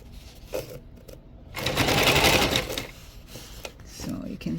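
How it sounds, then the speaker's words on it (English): Sewing machine stitching patio chair upholstery, a close rapid mechanical whir in one sustained run, with a voice talking before and after. "So you'll see it being stitched."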